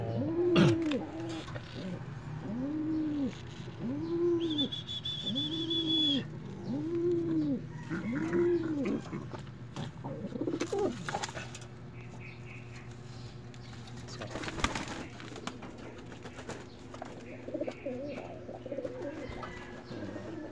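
Caged pigeons coo close by in a rhythmic series of soft, rolling calls during early-morning cage cleaning, with some clatter and faint background voices.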